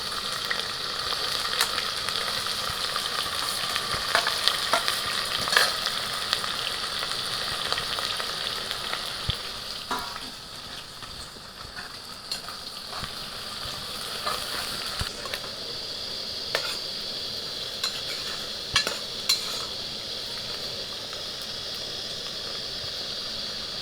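Onions frying in oil with star anise, a steady, moderately loud sizzle and hiss running throughout with occasional stirring clicks from the pan.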